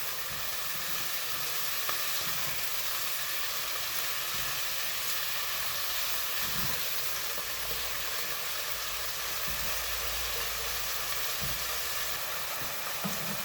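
Beef browning in oil in a pot over medium-high heat gives a soft, steady sizzle and hiss, faint and continuous with occasional small pops throughout.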